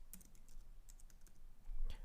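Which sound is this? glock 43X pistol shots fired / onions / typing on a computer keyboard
typing on a computer keyboard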